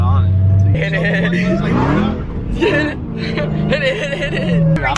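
An 800 hp Dodge Hellcat accelerates hard from inside the cabin, the engine roaring and rising through several gear shifts, loud and continuous with excited voices over it.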